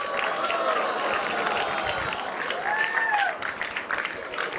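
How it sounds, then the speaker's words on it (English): A studio audience at a cake-baking competition bursts into loud, sustained applause and cheering for the advanced cake bakers, with a couple of rising whistles cutting through near the end. "give a big round of applause for this last round for the advanced cake"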